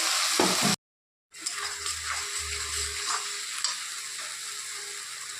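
Katla fish frying in a pan, a loud steady sizzle with stirring scrapes that cuts out briefly, then returns as the pan keeps crackling after water is poured in.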